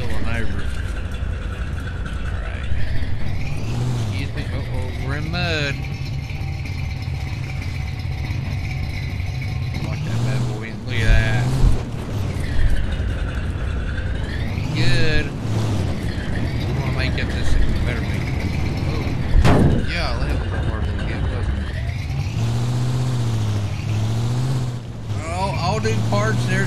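A junkyard truck with a built V8 engine churns through mud, its motor revving and droning loudly and continuously with pitch swells as it bogs and surges, while someone talks over it throughout.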